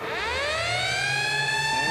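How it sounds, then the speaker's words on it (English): A hockey arena's final siren at the end of the night blares as one loud, sustained wailing tone, steady and unbroken with no talk over it. "There's the final siren going here."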